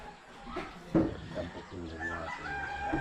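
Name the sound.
ducks waiting to be fed in the morning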